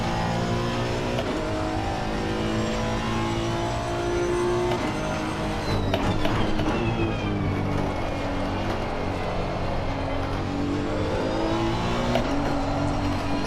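Honda NSX GT3 race car engine at Catalunya in Assetto Corsa Competizione, loud and continuous, revving and shifting through gears, with throttle lifts and reapplications.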